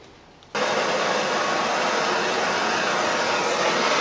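An engine part is heated until it glows cherry red during a GM 350 engine rebuild. After a short quiet moment, a loud steady rushing hiss starts abruptly and holds unbroken to the end.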